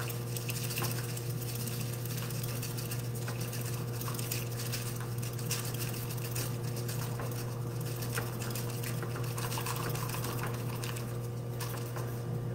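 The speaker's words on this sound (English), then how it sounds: "we'll go ahead and whisk that in an M shape for about 30 seconds or so." Matcha tea is whisked in an M-shaped motion with a whisk, making a rapid, continuous scratchy patter up close that runs steadily and evenly from start to finish, without speech.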